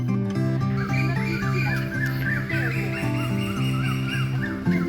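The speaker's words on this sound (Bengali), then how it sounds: "চারদিকে পাখির আওয়াজ, দারুণ।" Honking, goose-like bird calls repeat continuously outdoors at a nature resort near Kolkata, with a loud chorus of overlapping cries in a steady, busy rhythm and no talking.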